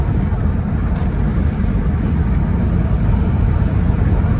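Ford Falcon XR6 with a Barra engine and ZF six-speed automatic downshifting in performance mode, heard as a loud, steady, dense engine and road roar at close range with no talking.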